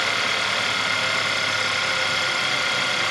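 A VW/Audi 2.0 TFSI engine idles in a workshop, giving a steady, even, fairly loud mechanical hum with no talk over it.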